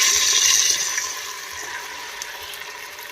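Ginger paste frying in a pan for Kashmiri Nadir Churme, a steady close hissing sizzle that eases slightly over a few seconds, with no talk.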